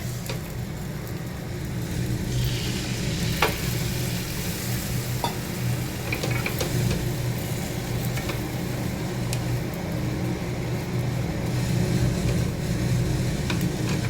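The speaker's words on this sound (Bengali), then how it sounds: "আমার সেমাইটা ভাজা হয়ে গেছে, এখন এটাতে জল ঢেলে দেবো।" Continuous sizzling and bubbling from a pan of fried vermicelli as water is poured in, a steady hiss with occasional sharp crackles and clinks, moderately close with no talk.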